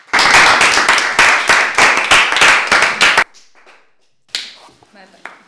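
Delegates at a model UN conference clap together after a clause passes a vote: a burst of loud, close claps in a quick uneven rhythm for about three seconds, then a few scattered claps and small room noises.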